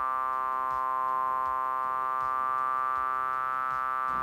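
An Ableton Drift synth lead runs through an auto filter whose frequency sweeps slowly at about 0.2 Hz, giving a sustained, bright buzzy tone that shifts gently throughout, steady and loud with no talk.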